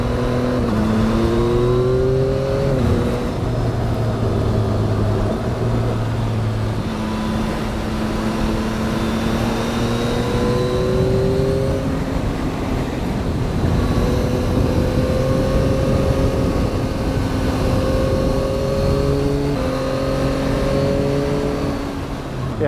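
Yamaha MT09 motorcycle engine under way on the road, a steady loud drone with rising and falling revs as the rider accelerates and shifts, continuous throughout with no talking.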